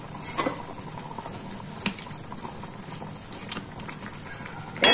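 Tamarind and sesame curry gravy simmers in a pot with a soft, steady bubbling and occasional small pops, then a brief clatter of a utensil or lid right at the end.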